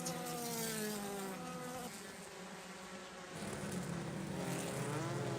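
Spec Miata race cars pass by on a racetrack during a practice session, a droning, buzzing chorus of engines that rises and shifts in pitch as the cars go past.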